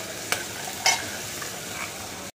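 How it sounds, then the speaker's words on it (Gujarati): Onion paste sautéing in hot oil over low heat, a soft continuous sizzle broken by a few sharp spatters and crackles as it is stirred. "ડુંગળીની પેસ્ટ ધીમા તાપે સાતરી દઈશું।"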